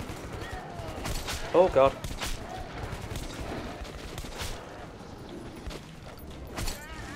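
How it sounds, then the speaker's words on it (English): Gunfire in the video game Metro 2033, sharp bursts of shots scattered through a dense game soundscape, with a louder cluster near the middle, under frequent speech from players. "Why are you just shooting?"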